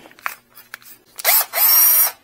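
A power drill bores a hole for an air-fuel ratio sensor bung in a micro van's exhaust, coming in close loud bursts after a few light taps and clatters.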